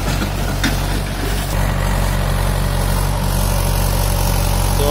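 Mahindra 475 DI tractor pulling a fully opened 12-disc harrow in a field, its diesel engine a loud, steady low chugging drone that barely changes throughout, with no talk.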